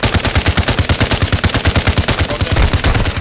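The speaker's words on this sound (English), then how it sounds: "I'm getting shot by somebody" Rapid bursts from a RAAL LMG in Warzone 2, loud and close, a steady stuttering stream of shots with no pauses.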